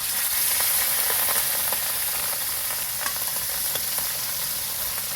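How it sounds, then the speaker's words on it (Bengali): Fish sizzling in hot mustard oil in a pan, a steady loud crackling fry with scattered sharp pops throughout, no voices. "তেলটা গরম হয়ে গেছে, দিয়ে দেবো মাছগুলো।"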